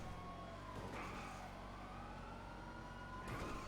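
A wailing emergency siren in a roleplay driving video game during a chase rises and falls steadily, moderately faint under engine rumble, with no voices.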